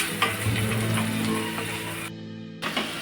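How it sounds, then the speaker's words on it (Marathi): Chopped onion frying in a pan on a stovetop for a Maharashtrian radish bhaji, a steady close sizzle with a brief dip in the middle. "हा कांदा आपल्याला व्यवस्थित असा शिजून घ्यायचा आहे अगदी गोल्डन होईपर्यंत"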